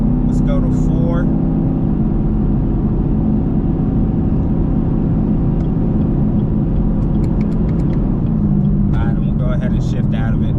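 Procharged Camaro SS V8 held steady at around 3,500 to 4,000 RPM, a loud continuous low engine drone with a slight pitch rise near the end, heard from inside the car.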